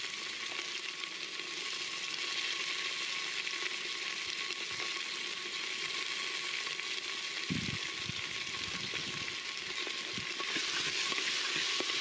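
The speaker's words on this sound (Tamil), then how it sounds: "பூண்டு போட்டு வதக்குறோம்" Garlic and onion sautéing in a pan as the base of a dried anchovy curry: a steady, quiet hiss of frying with an occasional soft thump and stir in the middle.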